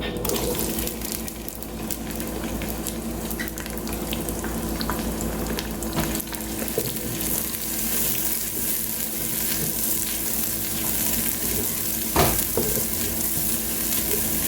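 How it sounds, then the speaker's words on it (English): Chopped onions frying in hot oil in a cooking pot, a steady close sizzle running the whole time, with faint stirring and a brief sharper crackle near the end. "When it heats up, we add our chopped onions."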